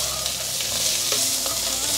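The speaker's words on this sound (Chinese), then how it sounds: "现在放入芋头，胡萝卜也一起放进来，快速翻炒。" Taro, carrot and mushrooms stir-fried in a hot pan give a steady, close sizzle with soft scraping and tossing strokes throughout, no voices over it.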